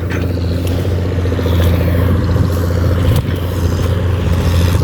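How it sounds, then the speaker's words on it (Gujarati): A tractor engine chugs loudly and steadily up close, a constant low diesel rumble with rattling clatter over it. "જો એ ટ્રેક્ટર વારે છે"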